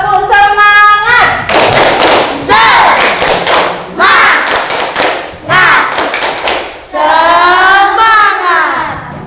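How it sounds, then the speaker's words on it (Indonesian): A school class claps out a rhythmic spirit cheer, loud near bursts of clapping in patterned groups mixed with children's chanting voices. "ayo coba tepuk semangat"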